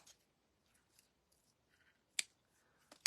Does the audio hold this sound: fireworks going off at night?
no